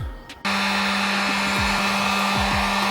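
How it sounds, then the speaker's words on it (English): Heat gun switches on abruptly and blows with a steady, loud whirring hiss while it warms a BMW G80 trunk spoiler to remove it. "we're gonna use a combination of heat with a heat gun as well as fishing line."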